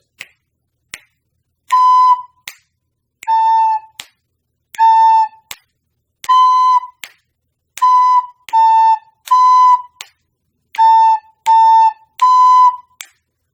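A breathy recorder plays a polka tune in short, detached notes in a bouncy, evenly spaced pattern, with brief clicks between phrases and silence around each note.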